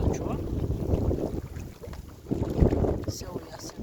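Wind buffets the microphone at a reservoir during method feeder fishing, a steady rushing roar that swells and dips in gusts, with a voice speaking under it.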